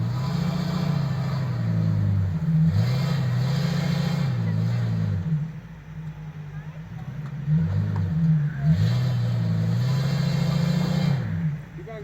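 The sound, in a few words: Ford Excursion revving with tires spinning in snow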